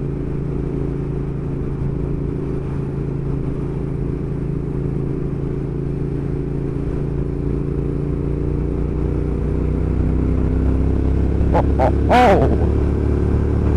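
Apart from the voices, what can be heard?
Triumph Thruxton R motorcycle engine riding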